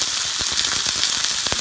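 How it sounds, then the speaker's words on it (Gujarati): Chicken pan-frying on a stove gives a close, steady sizzle with crackling pops scattered throughout a short burst, no voices over it. "તો હવે આપણે આ ચિકન લેશું ને એને જરાક ચૂલા ઉપર આવી રીતે તળી નાખશું।"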